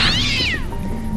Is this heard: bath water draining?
no